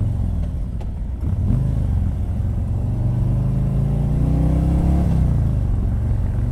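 A 2019 Harley-Davidson Street Glide with a 107 engine rumbles loudly and close by, its pitch climbing and falling as the throttle is revved, with no voices.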